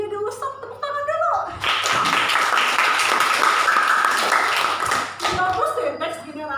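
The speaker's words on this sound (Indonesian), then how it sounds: "tepuk tangan dulu" An audience claps at a school session, a burst of applause that swells quickly, holds for about three seconds, then thins out as voices return around it.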